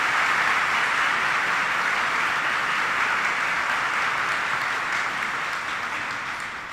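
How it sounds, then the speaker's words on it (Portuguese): A church crowd at a parish investiture ceremony gives sustained, dense applause, steady and loud before easing slightly toward the end. "Uma salva de palmas bonita para a nossa coordenação"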